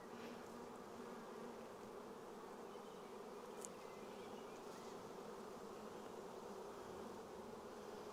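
Honeybees crowd a frame pulled from a hive at an apiary, giving a faint, unbroken hum that stays level throughout with no voices.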